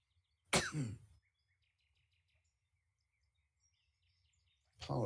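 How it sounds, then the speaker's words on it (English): A man coughs hard after choking on a drink, one close, loud burst of coughing, then near silence with faint insect-like chirps, and a second coughing fit starting at the end. "Apologies for the coughing."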